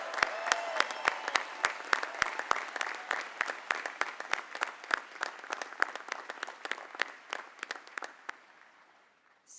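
Graduation audience at a college commencement applauding the seniors, a sustained wash of clapping with sharp individual claps standing out, steady and fairly close, thinning and fading out near the end.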